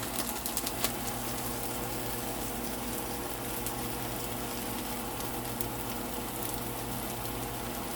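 Hamburger patties sizzle and crackle in a pan in a steady, close, dense hiss with small pops, and no one speaks.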